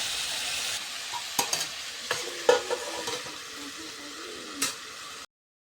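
Spices with salt and turmeric sizzling steadily in a hot pan, a soft constant fry with several sharp scrapes and clinks of a spatula stirring, then abrupt silence at the end.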